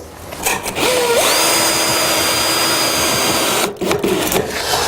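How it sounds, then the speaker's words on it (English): Power drill driving a screw into a plinth base rail on a timber frame: a rising whine that settles into a steady, loud drive of about two and a half seconds, then stops, with brief handling noises before and after. "So the first screw can just be put in gently, and then we can offer up the rest of the rail and fix it one by one."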